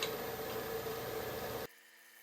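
Steady, dense scraping hiss of a scraper smoothing the bottom of a large magnolia wood bowl, even and close, cutting off abruptly near the end.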